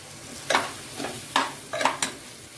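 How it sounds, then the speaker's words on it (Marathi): Semolina roasted with melted tomato in a pan gives four quick, close scraping strokes over a soft, low sizzle. "टोमॅटो छान मेल्ट झालं की त्यात रवा ऍड करायचे, लापसी रवा। आणि हे छान परतून घ्यायचे।"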